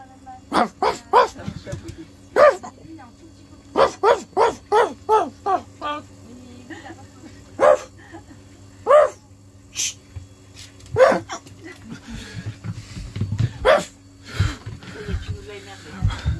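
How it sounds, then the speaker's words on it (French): Dogs bark loudly nearby in repeated short bursts and clusters, with some yips and whimpers between them, while people talk throughout. "avec les chiens qui font que de gueuler à côté"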